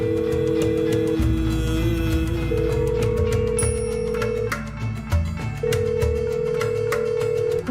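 A phone rings over and over in a steady repeating electronic tone, with background music and noise underneath and no one picking up.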